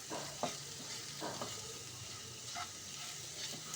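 Potato and egg mixture with chili powder and turmeric sizzles quietly in a pan while a utensil stirs it, giving a soft steady frying hiss broken by several brief scraping strokes, no talking.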